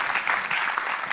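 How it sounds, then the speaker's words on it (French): An audience applauds after speakers finish at a conference session, a brief burst of steady, dense clapping filling the room with no voices over it. "Je pense qu'on peut les applaudir."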